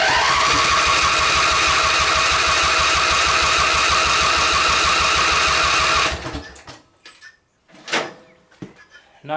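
A race mower engine is cranked and sputters loudly for about six seconds without catching, then cuts to scattered clunks and rattles of handling the machine.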